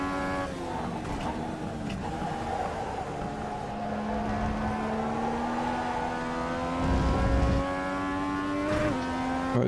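A race car takes a fast lap on a track, its engine droning close and steady with rising and falling pitch through gear changes and a few sharp blips.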